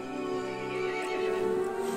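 A horse in the horror video game Resident Evil Village lets out a loud, shaky neigh lasting about two seconds, with faint hoof clops beneath the whinny.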